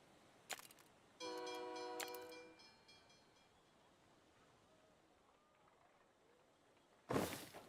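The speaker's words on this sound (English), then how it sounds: "And we got a new train coming through." A train rolls through a Steamworld Build town: short clanks, then a sustained multi-tone steam whistle for about a second, and a loud hissing burst of steam near the end, all over a quiet game backdrop.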